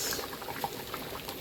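Fish curry with small fish such as punti bubbling in a pot on a village stove in the Sundarbans, a steady close simmering patter of liquid, with no voices.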